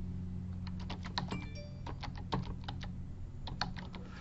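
Quick, light clicks of keys being pressed on a computer keyboard while a password is entered, an irregular close tapping heard alone at low volume.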